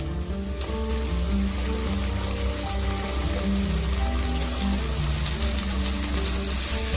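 Onion and chopped tomato fry in a pan, a dense rain-like sizzle with stirring noises running throughout, steady tones underneath.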